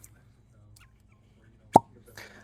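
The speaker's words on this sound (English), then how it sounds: "that's a nice cork pop right there" A cork pops from a bourbon bottle as a single sharp, close plop, followed by a brief soft rustle over a quiet background.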